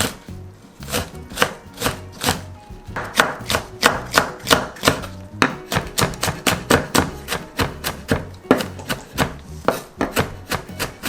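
A knife chops green onion on a cutting board in quick, even, close knocks that keep a steady rhythm throughout, with only a short pause early on and no talking.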